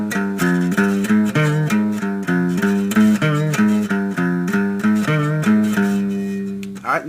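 Distorted electric guitar repeating a song's riff on the low sixth string four times, a chugging run of close, heavy notes in a steady rhythm that ends in a ringing chord.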